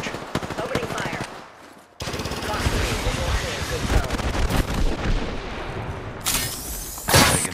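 Automatic gunfire in Apex Legends, loud rapid bursts that fill most of the stretch after a short gap, with a voice speaking under the shooting.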